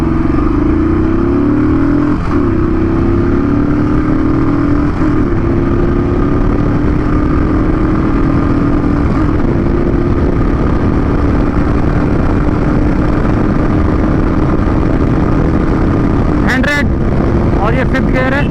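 A Royal Enfield motorcycle is accelerating hard at speed, its engine note climbing steadily with loud, constant wind rush, a brief gear-change dip and a few sharp clicks near the end.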